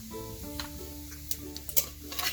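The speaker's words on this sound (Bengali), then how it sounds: "তেলে ফোড়ন হিসেবে দিয়ে দিচ্ছি কিছুটা পাঁচফোড়ন" Panch phoron spices crackling in hot mustard oil in a pan, a steady close sizzle with scattered sharp pops and a few stirring scrapes, no voices.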